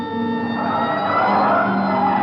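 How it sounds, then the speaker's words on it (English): A wailing siren, likely from a police car in a 1949 radio crime drama chase, holds a steady loud rising-and-falling tone alone throughout. "Hit the siren"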